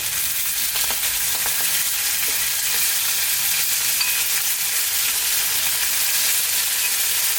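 Pork ribs fry in a pan over low heat as sticky red marinade is spooned over them, a constant bright sizzle with faint scraping from the spoon, close and steady, no talking.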